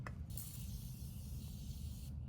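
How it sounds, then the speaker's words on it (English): Makeup setting spray misted in one continuous hissing burst of about two seconds, close and fairly quiet, with a faint background hum and no talking. "I'm gonna put on some setting spray"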